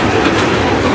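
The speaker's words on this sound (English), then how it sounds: "We got a couple zebra yard trains there, or yard locos there." Yard locomotives in zebra-stripe paint rolling past on rails, a loud, close, continuous rumble of wheels and rail noise with no voices.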